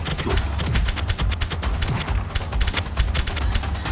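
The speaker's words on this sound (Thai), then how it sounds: "โอ้เจอธนูยิงครับ" Volleys of arrows fly in the battle game Animal Revolt Battle Simulator, making a dense, loud, continuous rattle of rapid sharp impacts, like a fusillade, for several seconds with no pause.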